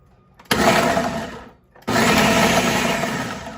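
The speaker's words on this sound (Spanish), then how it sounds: "Y lo vamos a licuar, pero en pulsaciones." A kitchen blender pulsing chunks of meat into mince makes two loud motor bursts, the first about a second long and the second longer, split by a short near-silent pause.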